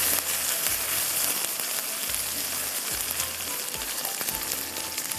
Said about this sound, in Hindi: तो थोड़ा इसको हम गोश्त को यहाँ पर भूनेंगे।